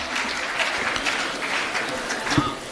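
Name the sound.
audience applause at Hindi poetry event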